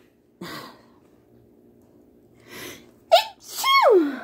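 A single close, sharp sneeze, preceded by a few breathy inhales and quiet rustling.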